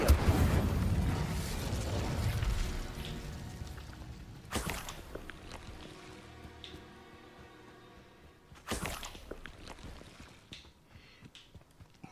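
The Incendio fire spell is cast in Hogwarts Legacy, sounding as loud whooshing bursts: a heavy rush at the start, then two sharp flares spaced a few seconds apart over a low game background.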